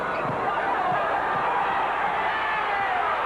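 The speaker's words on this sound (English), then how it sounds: "Crowd wanting a foul." A basketball arena crowd at a Morehead State game roars in a continuous, dense wash of voices, reacting loudly as they call for a foul, with faint ball bounces underneath.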